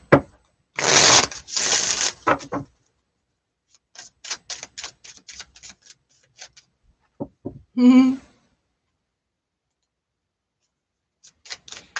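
Tarot cards shuffled in two loud riffling bursts, followed by scattered light taps and clicks with quiet gaps, plus a brief tonal squeak near the middle.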